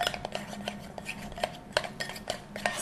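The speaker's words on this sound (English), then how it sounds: "Stir it in." A utensil stirs food coloring into cream cheese frosting, giving quick, irregular clinks and taps against the bowl, close and fairly light, with no talking.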